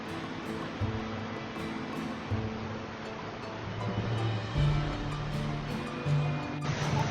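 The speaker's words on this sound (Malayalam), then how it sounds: "രണ്ടു മൂന്ന് തട്ടായിട്ടാണ് ഇവിടുന്ന് പുഴ ഇങ്ങനെ ഒഴുകി വരുന്നത്" A continuous rush of river water flowing over rocks in two or three tiers fills the scene, while a vehicle engine hums and rises nearby.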